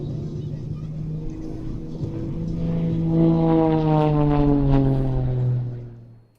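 An aerobatic propeller aircraft performs a tumble manoeuvre at an air show, its engine droning steadily and then rising and falling in pitch as the plane hangs and tumbles out, holding loud throughout before fading away at the end.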